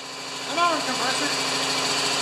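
An air compressor runs in a workshop during repair of a Craftsman EZ Walk mower, giving a steady, close mechanical drone with a constant buzzing tone throughout; a brief voice rises over it early on.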